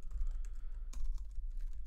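Brief bursts of close typing on a computer keyboard while entering a local network address, with quick irregular key clicks over a low hum, no talk.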